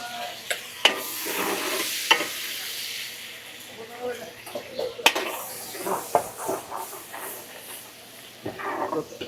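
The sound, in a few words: frying garlic and chili for spicy wings sauce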